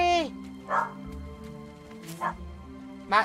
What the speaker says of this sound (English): Max, you'll set Titan's dogs off again